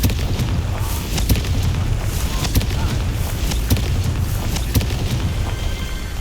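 Confringo blasting spell explosions in the Xbox Series X game Hogwarts Legacy, a dense run of loud booms and sharp bursts repeating across several seconds over a constant rumbling low roar.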